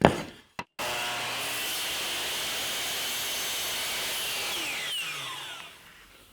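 A power saw cuts a scrap piece of poplar wood in a workshop: a click and brief pause, then a loud steady motor whine through the cut that winds down at the end, with no talk.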